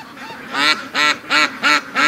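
A couple of geese honk nearby among free-range ducks, giving about five loud, evenly spaced honks that start after a soft lead-in.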